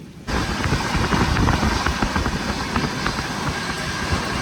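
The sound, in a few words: train travelling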